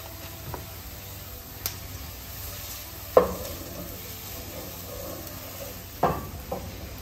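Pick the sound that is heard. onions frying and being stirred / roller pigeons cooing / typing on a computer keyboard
onions frying and being stirred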